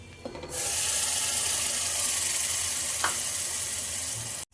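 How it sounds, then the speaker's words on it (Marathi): Ground coconut paste dropped into a hot pan, setting off a sudden loud, steady hiss and sizzle that holds evenly for several seconds before cutting off abruptly. "जे आपण मिक्सरला बारीक वाटून घेतलेले जे हे वाटण आहे खोबऱ्याचं ते आपण आता ह्यात टाकत आहोत"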